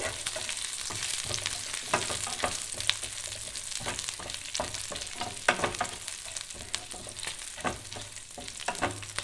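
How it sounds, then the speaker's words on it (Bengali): Four green chillies fry and brown in hot oil, giving a continuous close sizzle and crackle with occasional stirring scrapes, steady throughout and with no one talking. "চারটে কাঁচা লঙ্কা, একটু ব্রাউন ব্রাউন করে ভাজতে হবে।"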